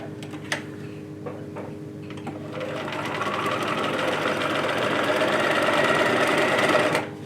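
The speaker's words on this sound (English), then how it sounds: "And then I'm just stitching on my sewing machine." A few light clicks, then a sewing machine stitching fabric for a decorative pillow whirs steadily and close by, its rapid stitching rhythm building and running on until it stops.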